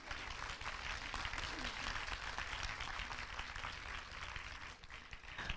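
Loud, sustained applause from a church congregation during a festive Sunday service, a dense wash of clapping that holds steady throughout with low rumble beneath and a voice or two faintly mixed in.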